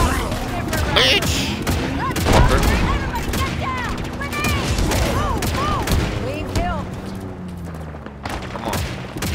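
Rapid, dense gunfire from Halo Infinite's Legendary campaign, with close bursts and overlapping shots continuing steadily throughout, while a player's voice talks over the combat.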